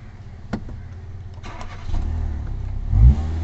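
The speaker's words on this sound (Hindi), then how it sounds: "गाड़ी जो है स्टार्ट।" A Hyundai car started with its smart-key push-start button: a short starter crank, then the engine catches and idles, with a brief rev swelling near the end, close and with no talk.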